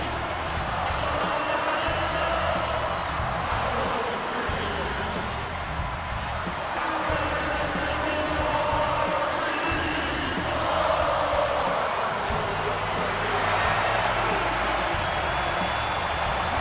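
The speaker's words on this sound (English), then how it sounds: "this capacity crowd just exploded" A capacity arena crowd in the WWE 2K26 wrestling game roars and cheers steadily throughout, a dense continuous wall of noise with a commentator talking over it.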